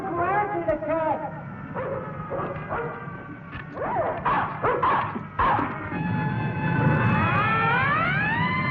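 Dog barking, yipping and whimpering in a dubbed 1959 Santa Claus film scene against a mad dog, mixed with voices and music-like tones, the animal sounds coming in short bursts under and between the speech.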